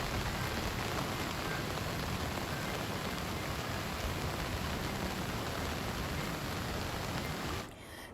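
Heavy monsoon downpour in Vyara, Tapi, Gujarat, a dense and even wash of falling rain that holds steady before cutting out abruptly at the end.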